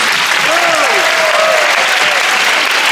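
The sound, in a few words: audience applause at film festival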